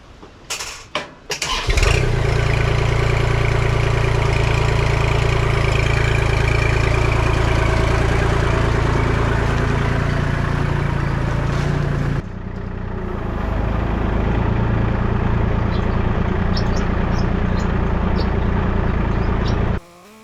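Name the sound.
Kubota L2501 tractor engine running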